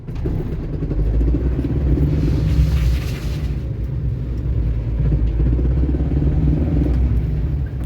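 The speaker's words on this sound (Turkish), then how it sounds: "Çok fazla akis sesi geliyor çünkü araçtan. Bakın tam sola çevirdiğimde aracın akis körü" A 2006 Renault Kangoo 1.5 dCi with a worn CV axle, turning left, gives a loud, steady low rumble of engine and drivetrain with a brief harsher grinding swell in the middle; no voices.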